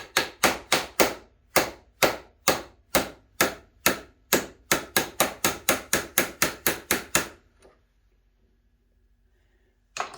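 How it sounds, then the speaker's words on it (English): Sharp, evenly spaced hammer blows ring out about two dozen times in a steady rhythm, driving a part onto a handle crank elevation shaft, then stop, leaving near silence before one last tap. "Let's try and hammer it in like this here."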